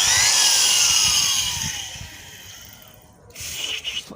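A power drill whines steadily while drilling into a broken bolt, its pitch sliding downward as it bogs down, then briefly goes quiet before grinding again in short uneven bursts.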